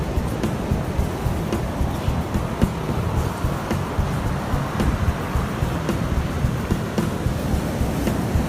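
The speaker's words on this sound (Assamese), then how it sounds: "আমি আহিলোঁ সাগৰত" Sea waves wash onto a beach with a steady low roar, and gusts of wind buffet the microphone at fairly regular intervals. The surf sounds moderately distant and continuous, with no talking.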